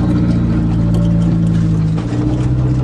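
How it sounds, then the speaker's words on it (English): A Turbo Aries wagon engine towing a trailer loaded with scrap air conditioners gives a loud, close, steady low drone with no talking. "the Turbo Aries wagon has no trouble pulling all this stuff"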